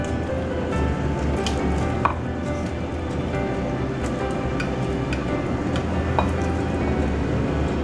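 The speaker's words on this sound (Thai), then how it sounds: "แล้วเราก็จะใส่ฟักแมวที่หั่นไว้ลงไปเลยค่ะ" Sliced chayote goes into a pork rib soup that has been simmering for about forty minutes, giving scattered soft taps and plops over a steady bubbling simmer, with no talking.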